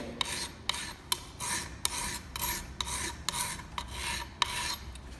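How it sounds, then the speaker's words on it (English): A file rasps across the tip of a scraper blade in even, rhythmic strokes, about nine back-and-forth passes, close and fairly quiet with no talking. "I'm just sharpening the very tip of the blade"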